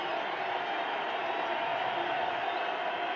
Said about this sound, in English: And the crowd getting into it here at the Sun Bowl.